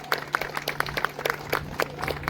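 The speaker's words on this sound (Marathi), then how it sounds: "यांच्यासाठी जोरात टाळ्या होते" A crowd claps at a prize ceremony for a sea rock bait fishing competition, a brief burst of quick, fairly close clapping that stays even throughout.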